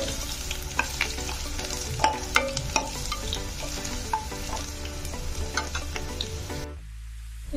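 Garlic frying and being stirred in a pan until browned, a continuous loud sizzle with frequent scraping and clinking stir strokes, close up, before the sound drops away at the very end.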